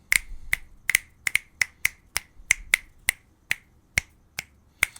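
Sharp finger clicks snap around a HyperX Quadcast S microphone in a loose, irregular rhythm, about a dozen of them, crisp and close with silence between each.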